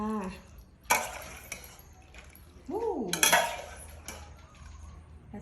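Cooked pork is scooped into a dish for a Thai spicy egg salad, with a few sharp utensil clinks and scrapes against the dish and quieter handling between them.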